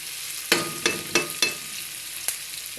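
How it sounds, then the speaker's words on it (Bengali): Onions frying in a pan for egg noodles give a close, steady sizzle, with several sharp stirring scrapes at the start and one more near the end. "একটু পেঁয়াজ দিয়ে আমি আরও কিছুক্ষণ ভাজি করব।"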